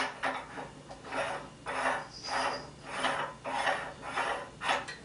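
Metal ring cap being hand-screwed onto a die on a tabletop pasta extruder, a series of rhythmic rasping, rubbing turns about every half second, close and moderately loud with no speech.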